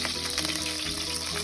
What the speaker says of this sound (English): I'm going to add the curry leaves here